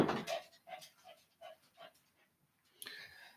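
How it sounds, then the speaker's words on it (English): A dog downstairs whimpers and pants in a series of short, high, pleading whines, evenly spaced and fairly faint, wanting to come up the stairs. "That's my dog wanting to come up from downstairs."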